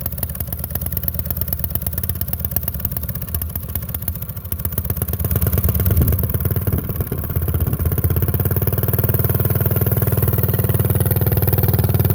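A mini bike engine with a modified exhaust runs steadily up close, a loud continuous buzzing drone that clatters at first, then rises and thickens as the throttle opens partway through.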